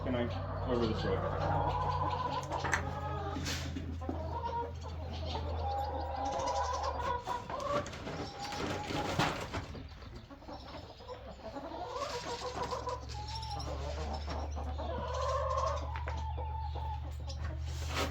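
Meat chickens in a barn brooder cluck and churr busily up close, a dense overlapping chatter over a steady low hum, with a person talking intermittently.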